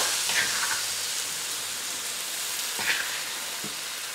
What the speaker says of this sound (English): So I've got a pan here with a couple tablespoons of canola oil in here, and we're gonna saute our herb paste.